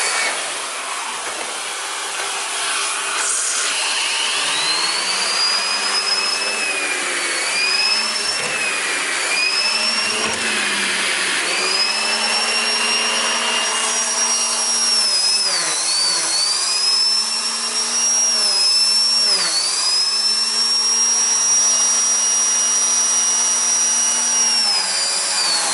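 A vacuum cleaner's turbo brush nozzle whirs loudly and steadily, its tone dipping and recovering repeatedly as the spinning brushes slow down and pick back up, a close mechanical whine heard alone.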